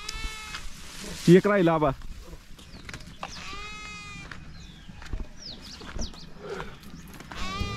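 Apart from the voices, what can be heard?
goat bleating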